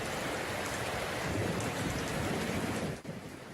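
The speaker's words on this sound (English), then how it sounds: "Rains." Steady rain pours down in a dense, even hiss of drops on surfaces, loud and close with no voices, briefly dipping near the end.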